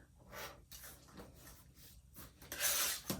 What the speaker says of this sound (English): I'm just going to go ahead and trim